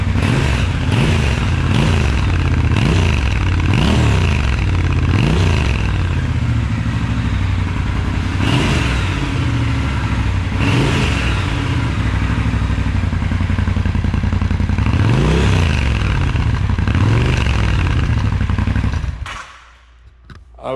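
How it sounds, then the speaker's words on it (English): A Triumph Scrambler 1200 motorcycle with stock exhaust revs repeatedly in sharp throttle blips over a deep idle, roughly a dozen rising bursts, then cuts off near the end. "For a stock exhaust, this thing has a lot of throat."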